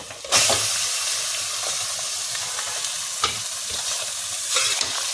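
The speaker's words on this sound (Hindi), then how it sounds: "ये देखिए प्याज हो गया है, तो इसमें डाल देंगे चिकन, डालेंगे इसमें चिकन।" Steady sizzling of chicken frying with browned onions in a pan for chicken korma, with a few louder bursts as ingredients are stirred or added, close and continuous with no talking.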